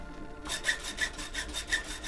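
In the survival game The Long Dark, a saw cuts wood in steady back-and-forth rasping strokes, about three per second, starting after a short quiet pause and running alone without voices.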